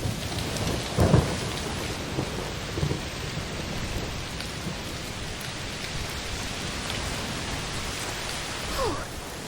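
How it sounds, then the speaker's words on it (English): Heavy rain pours steadily with low rumbles of thunder rolling through, a dense, continuous wash of sound. A storm in the video game A Plague Tale: Innocence. "Oh, it's raining a lot."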